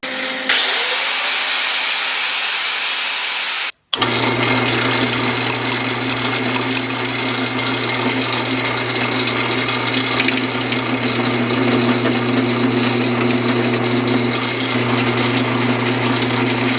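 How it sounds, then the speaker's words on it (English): A power drill cuts into the weld on a Honda CRF50 pit bike frame. A steady, loud, whining drone runs after a brief pause at the start, with no talking. "If my drill bit can cut through the weld."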